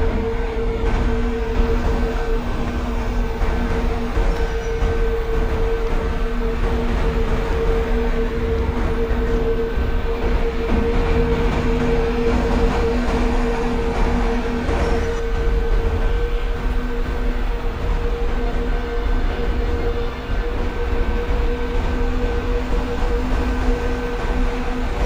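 A train in Microsoft Train Simulator waits at Farazabad Junction on the 51809 Kanpur–Tundla Fast Passenger, with a steady, close locomotive drone and humming tones that continue unbroken and without speech.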